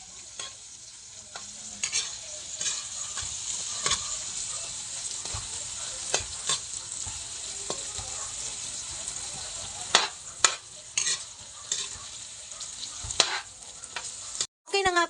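Vegetables stir-fry in a pan with a constant close sizzle, broken by repeated scraping and clattering strokes of a utensil, moderately loud, with no talk over it.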